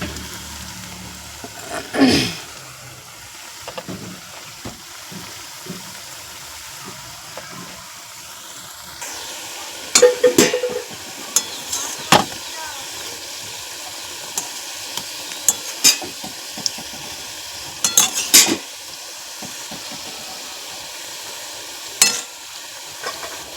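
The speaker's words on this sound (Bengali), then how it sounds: "সেই তেল দিয়েই হচ্ছে আজকে যেটাকে ভেজে নিচ্ছি" Food fries in leftover oil in a wok with a steady soft sizzle, broken by sharp spatula clinks and scrapes against the pan and a louder bubbling burst early on.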